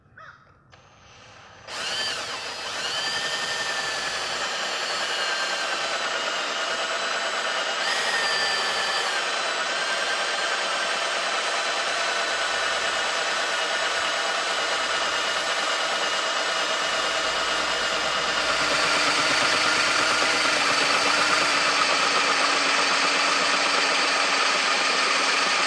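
A drill bit bores a hole through a steel knife blade, giving a continuous high whining grind under steady pressure after a brief start-up, loud and close, growing slightly louder near the end, with no talking.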